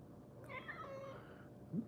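A house cat meows once indoors, a drawn-out mid-pitched call near the microphone, followed by a soft brief bump, with no talking.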